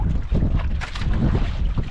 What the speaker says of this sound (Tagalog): Hangin lang, hangin.